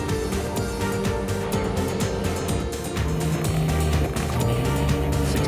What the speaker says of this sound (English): Nine boat of Herman Furie going through